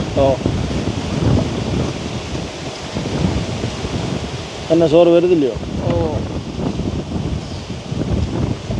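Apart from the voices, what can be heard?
strong wind blowing outdoors in a village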